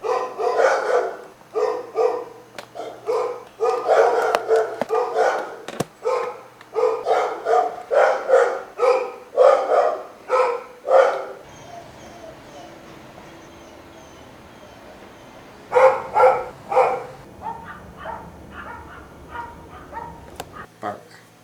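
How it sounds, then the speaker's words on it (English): A dog barks repeatedly in bursts, fairly close, with pauses between volleys; a voice speaks at times over it. "told me not to bother their dogs by going in my backyard, because that makes them bark"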